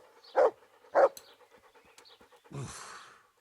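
Dog in the Kingdom Come Deliverance video game, heard as two loud close breathy bursts followed by a softer rasping exhale, with low rhythmic panting throughout, no talk over it.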